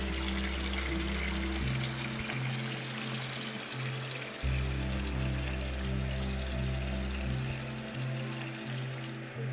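Water flows steadily and softly in The Gardens Between, a continuous gentle stream running the whole time beneath low, sustained musical tones, with no voices.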